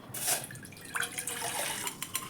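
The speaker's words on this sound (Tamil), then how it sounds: "தண்ணி ஊற்றி அந்த பாலை ஊற்றிக்கலாம்." Diluted rice milk poured into a heavy-bottomed pot gives a close, steady liquid splash and trickle with a few brief surges, heard alone without voices.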